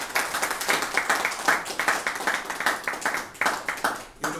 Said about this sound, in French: applaudissons pour la mère de la paix.